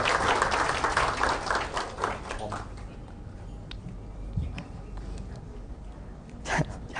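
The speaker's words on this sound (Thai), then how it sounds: "ขอเสียงปรบมือให้กับทีมที่1นะครับ" Applause for team 1 at an emergency medical technician conference in Thailand, loudest at first and thinning into scattered claps, with brief talk and a few sharp knocks.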